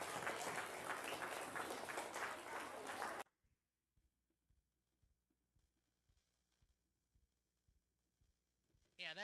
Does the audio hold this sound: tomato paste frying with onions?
no